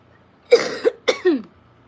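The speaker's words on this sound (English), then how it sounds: "I told you guys I had a cough." Two quick, raspy coughs in a row, close and fairly loud, in an otherwise quiet moment.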